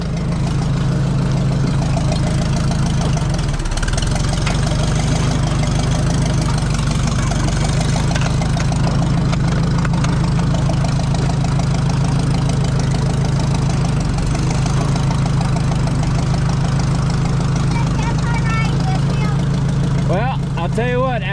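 A 1970 Ford F350 service truck runs steadily as it drives, its mid-pitched engine droning loud and continuous. Someone talks over the engine now and then.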